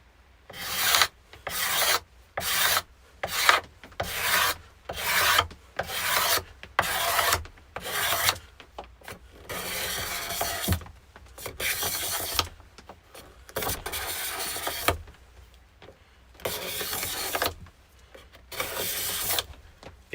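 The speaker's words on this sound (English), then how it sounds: "I love a cabinet scraper." A cabinet scraper shaves an epoxy and wood side table in repeated rasping strokes, each a loud, bright scrape of about half a second with brief pauses between, the rhythm loosening midway before steady strokes resume; no one speaks.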